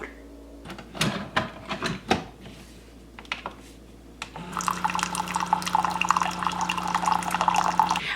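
Hot water from a Keurig brewer pours steadily into a cup, a continuous bright liquid rush starting about halfway through after a few sharp clicks and taps, close and fairly loud.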